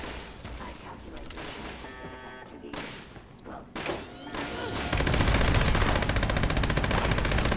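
A heavy gun fires in the video game Fallout 76. Scattered shots and thuds build into a loud, sustained rapid burst of automatic fire close by.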